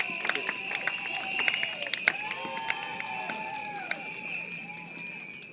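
Crowd at an evening political rally applauds and cheers a speaker being introduced, a lively clatter of clapping with a few whoops, moderately distant, under a host's amplified voice.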